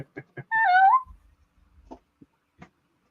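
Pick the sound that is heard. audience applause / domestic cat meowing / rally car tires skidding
domestic cat meowing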